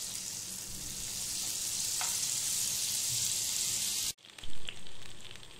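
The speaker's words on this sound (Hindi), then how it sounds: "हमने तेल के साथ में बटर को अच्छे से मेल्ट होने देना है" Butter melting in hot oil in a pan for white sauce macaroni makes a loud, steady close sizzle that cuts off abruptly near the end, followed by a few clattering pan noises.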